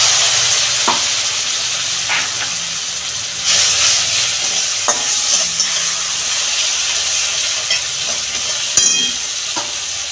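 Poppy seed and cashew paste for a Bengali fish curry frying in hot oil, a steady loud sizzle and hiss with occasional scrapes and clinks of a spoon stirring the pan, no voices.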